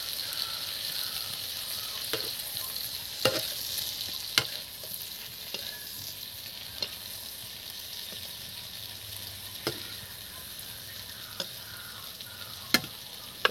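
Shrimp fry in a hot pan with a constant bright sizzle, while a utensil stirs them and clicks sharply against the pan every second or two.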